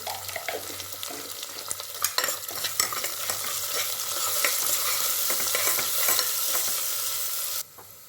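Onions sautéed with a little salt in a pan for vallarai rice give a continuous close sizzle, broken by scraping stirs and utensil knocks, and the sound cuts off sharply near the end; no one speaks.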